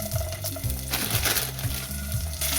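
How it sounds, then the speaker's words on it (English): Sliced onions fry in a couple of tablespoons of oil in a pot with a steady, crackling sizzle and occasional soft stirring scrapes. It sounds close, with no speech. "add a little bit of oil, maybe about 2 to 3 tablespoons of oil, and add some sliced onions to the pan"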